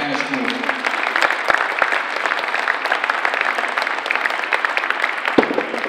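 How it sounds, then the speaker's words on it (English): Applause greets the keynote speaker at a high school sports banner ceremony, a moderate, fairly close patter of clapping from a modest crowd with a few sharp louder claps, continuing evenly throughout. "please, a round of applause for our keynote"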